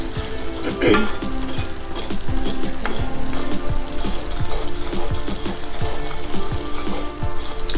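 Semolina for sooji halwa being stirred in a hot pan, with a steady frying sizzle and repeated scraping strokes of the spoon throughout, fairly loud and close, no talking.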